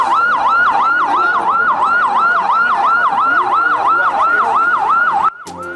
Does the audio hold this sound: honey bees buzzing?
no